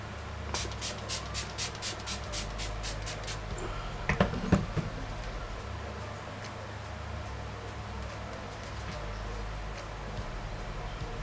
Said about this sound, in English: So I'm just going to use my Kiki setting spray